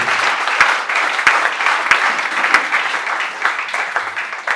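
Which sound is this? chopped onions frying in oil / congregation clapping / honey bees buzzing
congregation clapping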